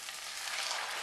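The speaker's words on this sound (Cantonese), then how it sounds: "炒香下佢" Shiitake mushrooms stir-fried in a hot wok give a steady, dense sizzle that stays loud and even throughout the short stretch.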